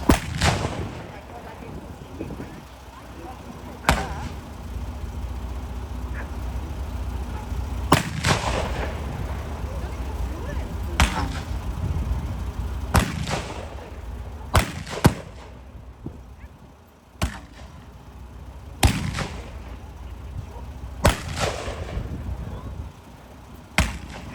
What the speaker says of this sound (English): Now we're going to fire the 37mm. Put your fingers in your ears for this one. 5 rounds.